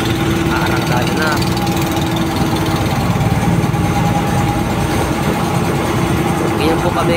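A fishing boat's engine runs loud and steady as the boat sets off on choppy water, a constant close droning rumble with a sustained hum and no pauses.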